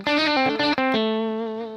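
Electric guitar with its volume knob rolled back to cut some of the gain: a few sustained, clearly pitched lead notes with lighter, smoother distortion, played close and alone with no talk.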